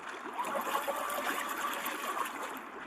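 Continuous rushing and trickling water of a flowing valley stream at a campsite, steady and fairly close with a gurgling texture, no voices.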